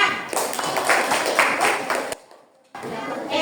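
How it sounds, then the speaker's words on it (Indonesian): Classroom of pupils clapping hands together in a dense, steady burst of applause, loud and close, stopping abruptly with a short silence before noise resumes. "Tepuk tangan dulu ya."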